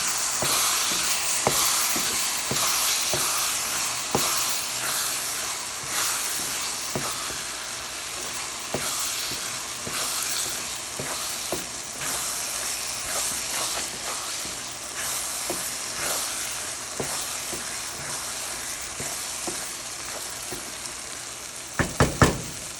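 Ginger garlic paste sizzles in a hot pan of spices for a crab curry, a loud, continuous frying hiss dotted with crackles, followed by a brief clatter at the very end.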